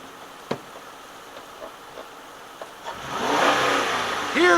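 An engine runs after its throttle body carburetor has been cleaned, starting with a few sharp knocks and clicks and then swelling into a nearby revving roar with rising pitch toward the end.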